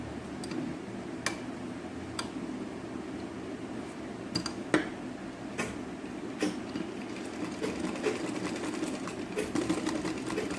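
Sewing machine stitching along the edge of a chudidhar latkan, a steady close mechanical whir with sharp ticking clicks scattered through it.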